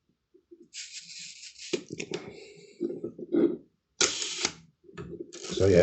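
The film wind-on lever of a 1975 Zorki 4K 35mm rangefinder camera is cranked, giving close, rasping ratchet bursts and clicks in several short strokes.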